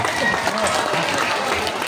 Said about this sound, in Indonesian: Tepuk tangan untuk Pak Wali kita.